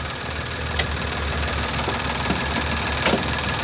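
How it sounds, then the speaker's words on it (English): A 2014 car's small, naturally unbalanced three-cylinder engine runs steadily at idle, a close, constant rumble with a slight knock and vibration and faint clicks, no voices. "Got the world's smallest engine in our car here."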